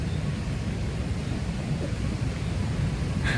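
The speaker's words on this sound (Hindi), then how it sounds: "पानी की आवाज़ बहुत ही ज़्यादा है।" Loud rushing water flows near a house in Garmisch-Partenkirchen, a steady, dense roar that carries on without a break and with no voices over it.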